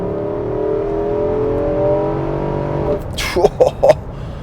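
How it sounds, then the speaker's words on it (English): A 2024 Nissan Armada SL's V8 engine drones steadily, then revs rise in a few quick surges near the end, sounding close and throaty. "I love the snarl of this V8."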